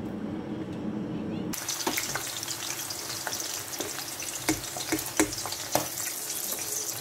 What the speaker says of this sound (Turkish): Üç adet sivri ya da çarliston biberimizi kızartıyoruz.